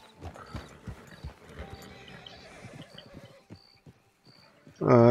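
A horse in the Red Dead Redemption 2 video game snorts and clip-clops amid game ambience, then lets out a loud whinny at the very end, with someone talking over parts of it.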